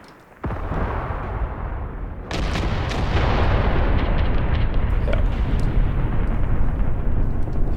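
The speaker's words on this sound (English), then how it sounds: "Here come the salvos." Artillery battery firing salvos in Graviteam Tactics, a loud, continuous wall of booms and rumbling blasts that thickens after a brief start, with dense overlapping detonations carrying on to the end.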